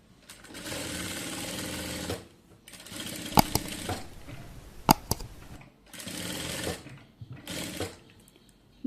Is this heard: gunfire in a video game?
no